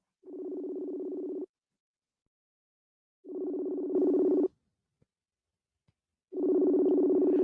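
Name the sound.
phone call ringing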